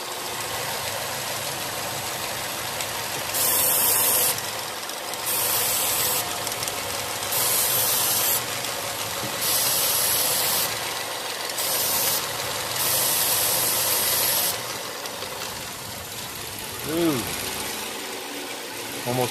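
A car engine with a vacuum leak idles roughly and close, with pulsing surges and dips in its steady hum as it nearly stalls, under a voice.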